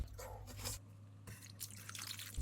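Water is poured into a pot of soup made with large wild mussels, a few soft, faint splashing and trickling bursts heard close up.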